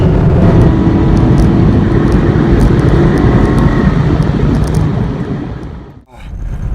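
An Aston Martin runs fast across the Bonneville Salt Flats, its loud engine and road roar buffeted by heavy wind on the microphone, then the noise briefly drops away near the end before returning.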